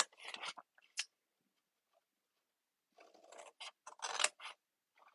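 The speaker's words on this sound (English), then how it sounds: "now I'm going to cut this little tab loose" Scissors cut a small paper tab loose for a handmade treat holder: close, quiet snips and papery rustles in short bursts separated by near silence.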